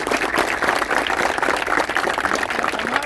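Audience applause at a community appreciation event in Maharashtra, a dense steady wash of clapping from a crowd that holds at an even level throughout with no talk over it.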